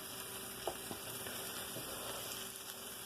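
Onions sizzle and fry steadily in a pan for a taco dish, a close, continuous crackle with a few soft stirring clicks and no talking.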